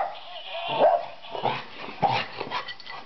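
A puggle dog barks and yips at a birthday card indoors, several sharp close barks in an uneven run with brief whimpering sounds between them.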